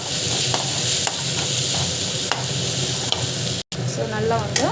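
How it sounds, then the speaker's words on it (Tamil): Onions and spices, including chili, turmeric and coriander powder, sauté in a pan with a steady close sizzle and repeated stirring scrapes. There is a brief cut near the end and a faint voice afterwards. "ஸோ அது போட்டுட்டு நல்லா வந்து வதக்கிக்கோங்க."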